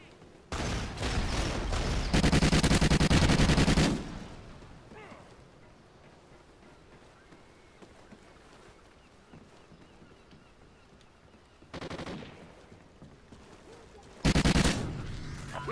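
Bursts of rapid gunfire from a weapon in the video game Call of Duty Ghosts, loud volleys near the start and again near the end with quieter game ambience between.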